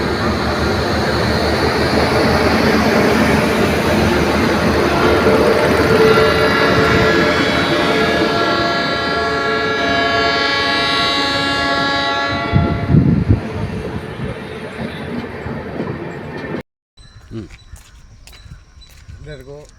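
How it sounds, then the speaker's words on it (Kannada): The Chennai–Shivamogga Express departs at an inaugural event with a loud rumble of rolling wagons and a long sustained horn blast. Voices are audible over it, and the sound cuts off abruptly to quieter ambience near the end. "ಈ ದಿನ ಚೆನ್ನೈ ಶಿವಮೊಗ್ಗ ಎಕ್ಸ್‌ಪ್ರೆಸ್ ಟ್ರೈನ್ ಏನು ಇವತ್ತು ಬಿಡ್ತಾ ಇದ್ದಾರೆ"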